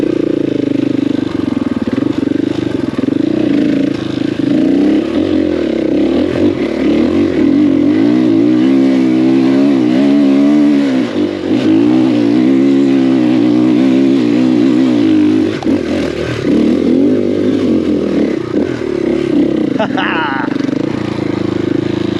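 A KTM 500EXC-F dirt bike engine revs hard in third gear while climbing a steep hill, its loud, close drone rising and wavering in pitch as the throttle works and the rear wheel spins.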